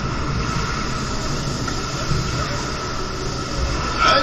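Ocean wave sound effect played during a staged studio show at Universal Studios Beijing: a steady, dense rushing wash of surf noise that holds evenly throughout and swells briefly at the end.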